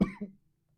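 Two quick coughs from a man recording alone indoors, a loud first burst followed by a softer second one, then silence.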